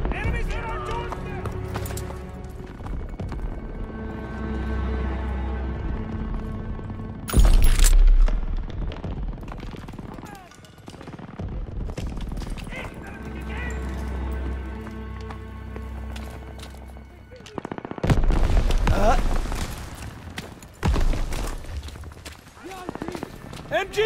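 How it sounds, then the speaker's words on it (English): Machine gun fire sweeps a beach in the Call of Duty WWII video game, rapid bursts and heavy booms mixed with battle noise, under frequent shouted talk, with loud blasts flaring at intervals. "MGs are still sweeping the beach!"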